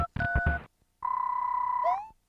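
Telephone dialing tones from the BS Super Mario USA video game: a short cluster of beeps followed by a long steady electronic tone that ends in a brief upward warble, clear with no talking.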